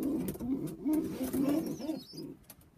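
Hen pigeons in a loft coo steadily and close by, with rolling low calls overlapping continuously and a few faint higher chirps near the end.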